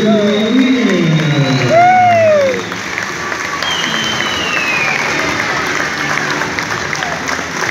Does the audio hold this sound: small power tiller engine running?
no